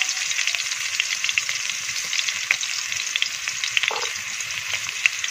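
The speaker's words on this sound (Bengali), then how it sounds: "আলুটা ভেজে নেব, হালকা হলুদটা দিয়ে দেবো।" Potatoes fry in a hot pan with a little turmeric, a steady close sizzle with scattered crackles and pops and one brief scrape near the end, with no voices.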